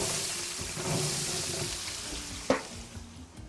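Onions frying and sizzling in a hot pan, with a steady broadband hiss and crackle throughout and one sharp clatter partway through, no talk.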